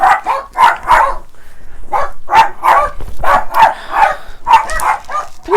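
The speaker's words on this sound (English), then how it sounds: "the dogs are going to start barking in a minute" Several pet dogs barking in a home craft room, loud and close, with repeated sharp barks in quick irregular bursts, some overlapping yips, and a short lull before the barking resumes.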